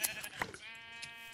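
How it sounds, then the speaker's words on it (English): A sheep bleats in the Minecraft Tekkit video game, one drawn-out wavering baa that follows a few short clicks and fades into faint background noise. "Oh, I found another sheep."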